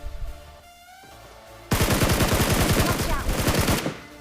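Rapid automatic gunfire from a BGMI mobile battle royale match erupts loud and close after a quieter stretch, sustained bursts of shots filling most of the clip.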